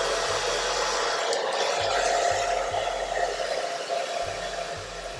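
A hair blow dryer set to cool and low runs in a steady airy whoosh close by, holding a continuous even hiss for the whole stretch with no one talking.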